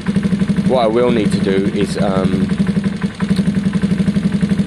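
Gilera DNA 125 scooter engine idling steadily with a pulsing, even beat, close by, while someone talks over it for a moment before the idle continues alone.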